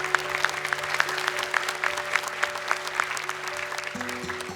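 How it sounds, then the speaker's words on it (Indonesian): A studio audience at the Hafiz Indonesia 2020 Quran recitation competition claps in a steady, moderately loud burst of applause for a young contestant, with no talk over it. "Tepuk tangan dong untuk Ula."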